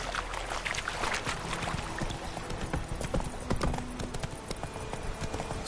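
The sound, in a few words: horse hooves clip-clopping in video game The Witcher 3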